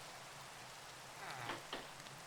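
Rain falls steadily in a video game, a faint, even hiss throughout with a couple of slightly louder patter bursts near the end.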